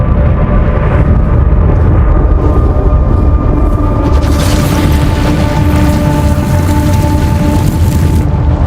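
Sonic boom from a meteor tearing through the atmosphere at night: a loud, sustained deep rumbling roar with a steady low tone that swells brighter partway through and continues unbroken to the end.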